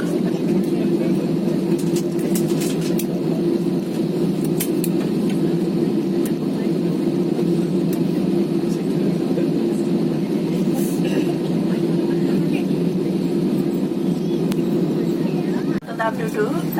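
Steady engine roar and rumble inside a Batik Air passenger jet cabin just after landing at Halim Perdana Kusuma, a continuous loud drone with faint clicks and thuds over it.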